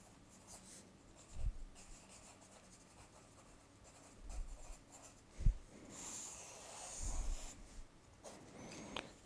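A pen sketches on paper, drawing circles with quiet scratching strokes and a few soft taps in a calm, close setting.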